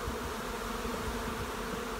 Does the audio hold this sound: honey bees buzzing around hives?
yes